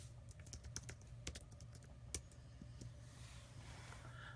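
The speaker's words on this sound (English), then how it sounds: "Here, I'll type it in. Well, if I can get my keyboard set." Typing on a computer keyboard, a quick run of sharp clicking keystrokes, close and fairly loud, with a steady low hum beneath and no talking.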